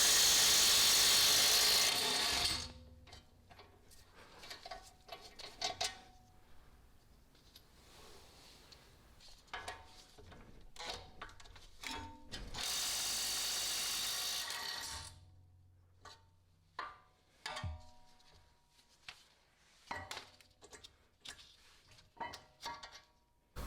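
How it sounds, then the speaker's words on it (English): An impact gun spins off the 18mm brake caliper bracket bolts on an E92 335i, two loud sustained whirring bursts followed by scattered clanks and ratcheting handling noises, close by with no talk. "I'm going to use an impact gun to take those off"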